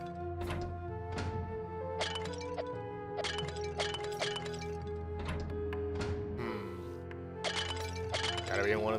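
Clay pots smashed one after another in the video game Evoland 2, each a sharp crack or shattering clink spaced irregularly over steady background game music.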